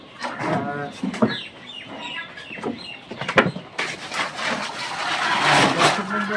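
Chickens cluck and squawk intermittently amid a busy, noisy poultry farm background that swells into a steady broad hiss, at a farm in Ullapara, Sirajganj.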